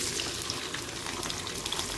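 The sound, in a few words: garlic frying on wood-fired stove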